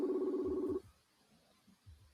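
A two-tone outgoing call ringing tone on a phone line, one steady burst of under a second that then cuts off into quiet with faint room noise.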